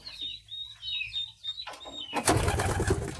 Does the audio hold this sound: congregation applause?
no